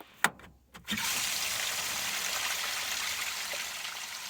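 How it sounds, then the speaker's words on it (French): Water gushes steadily from a partly open drain hatch on an RV parked in the desert, following a couple of brief knocks at the start and staying as a continuous close rush. "On sent bien que l'eau sort, mais quand je viens pour refermer, la trappe ne ferme pas"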